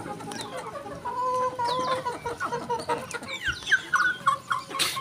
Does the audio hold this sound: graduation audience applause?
no